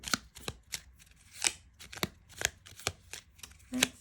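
Miniature tarot deck being shuffled by hand: a series of crisp, close papery riffles and taps in uneven bursts, quiet and without speech.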